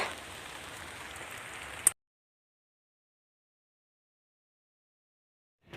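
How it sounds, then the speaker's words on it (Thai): Rain falls with a steady close hiss of drops on a surface for about two seconds before cutting abruptly to silence. "เดี๋ยวฝนตกขึ้นขึ้นขึ้นก่อน"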